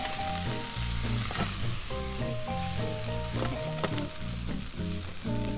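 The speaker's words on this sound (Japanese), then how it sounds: "しっかり甘みが出るまで炒めてあげます" Onions being stir-fried in a frying pan until sweet, a loud continuous sizzle with frequent scraping and stirring strokes, close up, while a steady tonal hum runs underneath.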